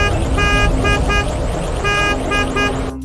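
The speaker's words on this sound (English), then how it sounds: "Use the command to sound the horn." A car horn honks in a few short repeated toots over a steady engine hum, with a synthetic game-like quality, from the PS4 game Race With Ryan.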